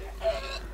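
A single short chicken cluck from a Minecraft party game on Hypixel, brief and moderately loud over a steady low background hum.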